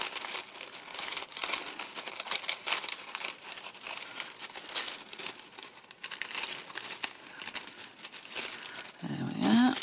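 Stamped tissue paper torn by hand, giving a steady run of close, crisp crinkling and ripping bursts that go on almost without a break.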